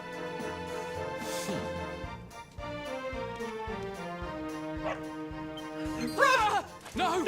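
Dog barking and yipping in the video game Dragon Quest XI, heard as short repeated yelps over game music, with a louder whimpering burst near the end.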